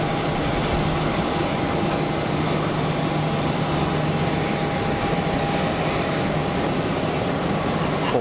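Jet airliners, among them a Swiss A330, taxi at Geneva Airport, a steady loud engine roar and whine with a constant hum and no change in level, heard from a spotting spot outside, with no talking.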